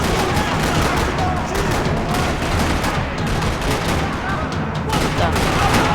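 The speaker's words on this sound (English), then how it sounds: "Another parking lot rattling with gunfire." Gunfire in the video game Max Payne 3 in a parking lot: loud, continuous rattling bursts of shots with overlapping impacts, sustained and dense throughout.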